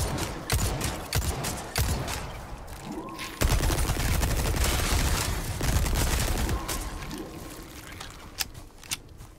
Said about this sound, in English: the only bad thing about TMP is that the ammo goes by so damn quick